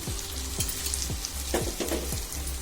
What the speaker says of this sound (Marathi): आता आपल्याला ही साईड शिजवायची आहे तेल जास्त टाकायची गरज नाही